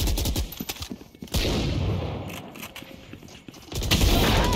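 Gunfire in the video game Valorant: loud, close bursts of rapid shots with sharp cracks, broken by short pauses and a final heavy volley.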